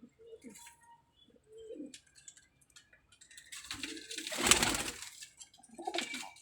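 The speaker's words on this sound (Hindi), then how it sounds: "लो भाईजान ये देखें बांका कबूतर है ये" A breeder pigeon kept in a loft coos in soft, low bursts, with faint chirps and a rushing swell of wing flutter or movement close by, under light background noise.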